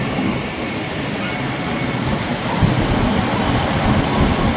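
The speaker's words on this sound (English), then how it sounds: "the train that's coming through platform 3" A train rolls into platform 3 at Stockport Station with a continuous loud rumble and rushing noise, swelling slightly as it draws nearer, with faint rattling beneath.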